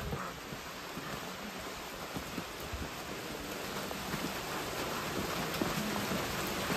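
Steady rain falls in Shillong, a constant even hiss of drops on surfaces throughout, with faint wind and no voices.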